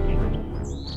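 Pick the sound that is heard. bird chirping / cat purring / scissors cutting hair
bird chirping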